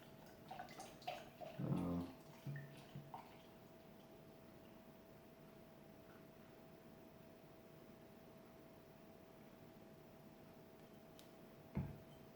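Schwanen Bräu lager is poured from a bottle into a glass, a brief splashing gurgle near the start followed by a long stretch of faint, quiet background hum with a small click near the end.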